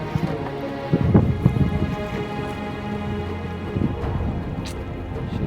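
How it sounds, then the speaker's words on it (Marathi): Heavy rain pours steadily during a Konkan coast storm near Achara lighthouse, a dense close hiss of falling water with a few louder splashes and a faint low rumble beneath. "पाऊस आलाय."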